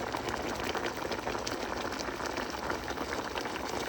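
Chicken and broccoli boil in a pan, giving a continuous bubbling, fizzing wash of liquid that stays steady and fairly faint from start to finish.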